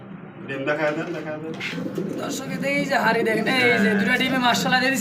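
Pigeons kept in a loft with eggs and chicks coo close by, with overlapping, repeated, throaty calls filling the whole stretch without pause.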